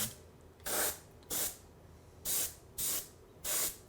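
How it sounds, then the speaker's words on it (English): Airbrush spraying paint in five short, even bursts of about half a second each, separated by brief pauses, a close, bright hiss with no talking. "having an airbrush is super handy"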